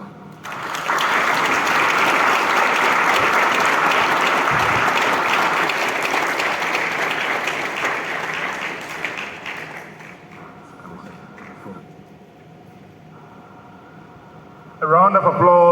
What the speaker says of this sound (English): A round of applause for Mr. Ivor Agyeman-Duah